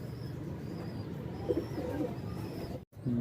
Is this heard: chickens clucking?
no